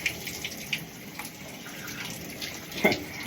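A shower runs steadily, a constant hiss of spraying water with occasional splashes and small knocks nearby.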